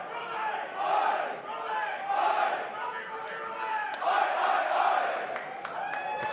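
A wrestling arena crowd in Newcastle chants and cheers in rolling waves, loud and sustained, with scattered whoops and sharp claps over the din.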